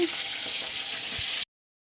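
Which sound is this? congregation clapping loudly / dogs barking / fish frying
fish frying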